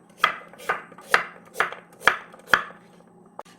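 Radish cut into small pieces for dongchimi with a knife on a board, six sharp, evenly spaced chops close up, then one lighter tap, with no talking.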